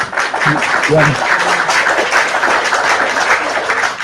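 Audience applause rises under a lively Indonesian debate between a presenter and five Christian guests, a continuous clatter of clapping mixed with a voice speaking over it.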